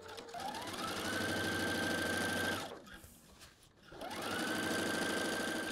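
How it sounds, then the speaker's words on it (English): A sewing machine stitches a fly front zipper using a zipper foot, a steady rapid mechanical whir that runs, pauses briefly, then starts again, close and clear with no talk. "I've got my zipper foot on my machine, and we're going to sew as close as we can to the teeth in one straight line of stitching"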